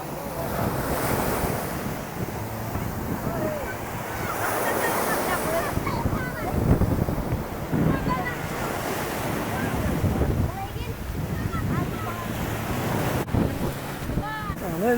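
Strong sea waves surge and break continuously at a beach, with heavy wind buffeting the microphone throughout; loud and close, with occasional voices of people playing in the water.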